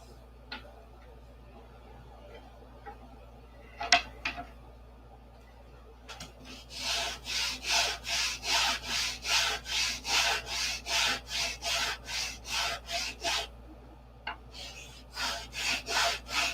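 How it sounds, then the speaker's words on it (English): Sandpaper rubs back and forth on a wooden control-line stunt model of a Republic P-47, with a fast, even series of raspy strokes lasting about seven seconds, a few scattered taps before it and a short resumed burst at the end. "Not enough. Keep sanding."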